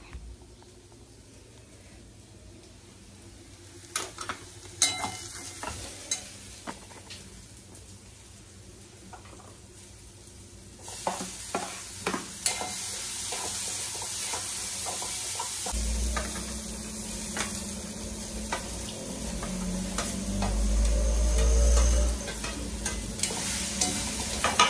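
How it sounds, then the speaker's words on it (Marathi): Onion frying in a pan on a home stove, a soft steady sizzle with scattered clicks and clatter, getting louder and denser in the later part, no talking. "एका साईडला कांदा कितपत फ्राय होतो हे मध्ये मध्ये सुद्धा ते बघते"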